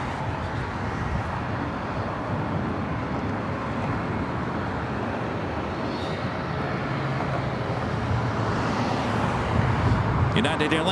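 A United Airlines Boeing 737 MAX 8 airliner at LAX, a steady broad jet roar that swells slightly toward the end, with faint voices beneath.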